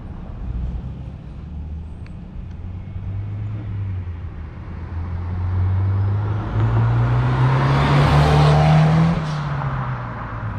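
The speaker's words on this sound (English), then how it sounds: "Again, that's early shifting." Honda S2000 roadster accelerating with early gear shifts, engine note climbing in pitch through a couple of short pulls with a brief drop at each shift, heard close and steady over road noise.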